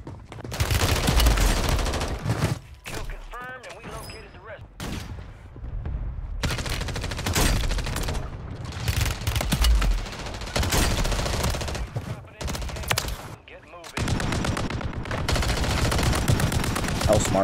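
Rapid bursts of automatic gunfire and sustained fusillades crackle through a Call of Duty Warzone firefight, loud and close, broken by brief pauses and shifting volleys, with occasional voices chatting over the shooting.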